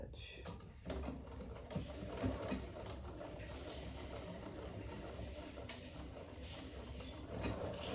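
A sewing machine stitching fabric for a travel jewelry case runs as a steady mechanical whir close by, with a voice talking over it and faint bird cooing in the background.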